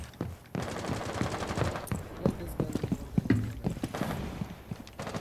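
Video game gunfire in bursts, with quick irregular cracks and rattling shots over continuous background noise, while voices talk throughout.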